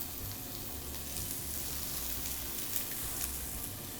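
Onions and burdock sizzle gently in a sukiyaki pan for Miyazaki beef sukiyaki, a faint, even, continuous frying hiss with no talking over it.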